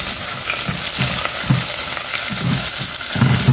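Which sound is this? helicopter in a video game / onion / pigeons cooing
onion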